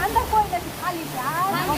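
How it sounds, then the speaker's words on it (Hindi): Heavy-rain floodwater rushes through residential streets in Uttar Pradesh, strong enough to carry cars along. The water makes a constant roaring wash under a voice speaking over it. "मोहल्लों में घुसे पानी की तेज रफ्तार कारों को अपने साथ बहा ले जा रही है"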